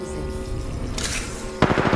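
Rapid automatic gunfire in the battle royale game Apex Legends, a sharp burst followed by a second tight volley of closely spaced shots, loud and near, with no talk.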